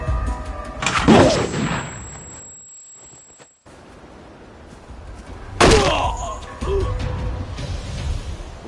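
Two grenade explosions in the video game We Happy Few, each a loud sudden boom with a long rumbling decay, separated by a few seconds of near silence.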